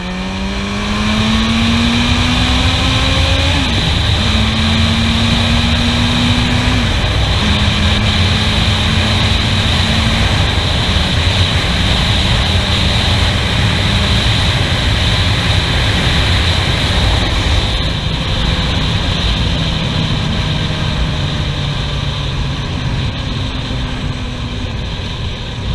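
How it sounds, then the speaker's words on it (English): A Yamaha YZF-R1 sport bike ridden fast gives a loud, sustained engine roar, pitch climbing and dropping through several gear changes, with heavy wind rush throughout and no talking. "the bike sounds amazing all the time"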